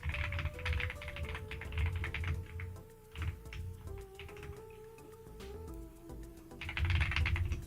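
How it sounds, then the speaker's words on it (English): Typing on a computer keyboard, heard as quick irregular bursts of clicking keys. It is close and fairly quiet, pauses briefly now and then, and carries a faint background hum, with no talking. "Sorry, the silence is actually not silent because it's me typing."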